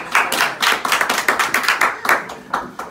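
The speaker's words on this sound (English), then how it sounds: "Jeff Jones, give another applause." A small audience at a Tea Party caucus meeting claps loudly and unevenly for a speaker, with close, distinct hand claps in a lively burst lasting about three seconds.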